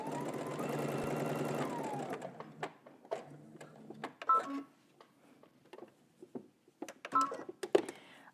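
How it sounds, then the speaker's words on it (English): A sewing machine tacking down a garment pocket runs steadily for about two seconds, then gives way to quieter clicks, taps and handling noises from fabric and machine parts. "So let's go ahead to the sewing machine and tack our pocket down."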